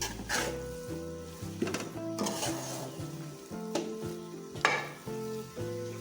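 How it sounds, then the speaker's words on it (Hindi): Khoya is stirred into carrot halwa in a pan, a steady soft sizzle beneath repeated scraping strokes of a spoon against the pan and occasional metallic knocks, close and continuous. "इसमें खोया भी मिक्स हो गया"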